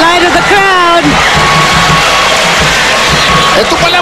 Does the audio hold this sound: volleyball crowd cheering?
yes